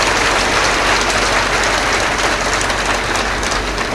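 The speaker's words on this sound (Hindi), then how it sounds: "एक बार ताली बजाकर हमारी संत मंडली का अभिनंदन कीजिए।" A crowd at a spiritual gathering during the Ujjain Kumbh claps to welcome a group of saints, giving loud, dense applause that continues evenly throughout with no voices over it.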